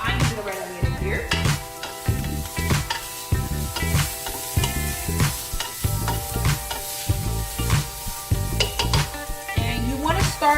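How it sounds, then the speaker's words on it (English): Red onions for a vegan three-bean chilli sauté over medium heat in a pan, giving a steady close sizzle with frequent scraping stirs and light clinks of a utensil against the pan. "you just want to get your onions nice and sauteed"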